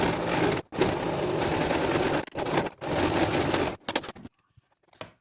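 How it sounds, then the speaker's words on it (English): A sewing machine stitches around the border of a felt barn on a busy book page, running in long steady loud bursts with short stops between them, then slowing to a few brief stitches and falling quiet, close up and with no speech. "I'm going to sew around the whole border, and then I'm going to sew right across the bottom here."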